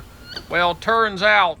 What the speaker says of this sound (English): you could hear the wood ducks in the background kind of screaming at her